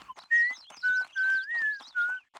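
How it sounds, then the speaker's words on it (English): The newspaper girl in The Sims 1 whistles a short tune of five clear sustained notes with slight pitch slides, close and clean over about two seconds, alone without talk. "like the whistling of the newspaper girl"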